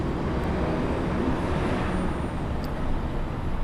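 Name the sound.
bus passing at street press conference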